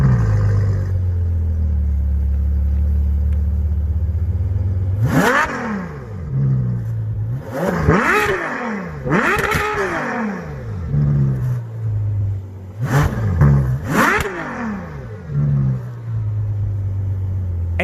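Ferrari 12Cilindri with a naturally aspirated V12 settles at a steady idle, then fires off a series of sharp, loud revs that climb and fall back, two close together and then a further pair.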